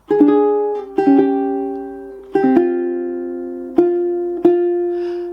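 Fingerstyle ukulele plays the closing chords of a jazz tune at a steady tempo, without slowing: a handful of clear plucked chords, each ringing out and decaying before the next, ending on a sustained final chord.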